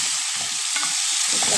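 Chopped onion, pepper and garlic frying in hot oil for an Egyptian liver-and-onion dish, giving a loud, continuous, close sizzle with a few faint low knocks of stirring.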